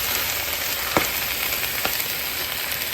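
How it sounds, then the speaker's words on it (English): Home-canned tomatoes poured into a pan of browned ground beef with no fat left, giving a steady close sizzle and frying hiss with a couple of brief splashy bursts. "I'm going to add a pint of tomatoes"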